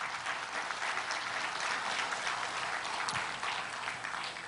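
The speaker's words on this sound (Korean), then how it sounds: "법원장님께 그러면 박수 한번" Audience applause at a court-hosted lecture series, steady clapping from a crowd at moderate distance, continuous and fairly quiet.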